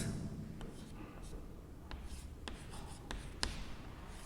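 Pen scratching steadily across paper while a calculus derivation is written out during a class 12 maths lesson, with short strokes and sharp ticks as symbols are finished, close and fairly quiet.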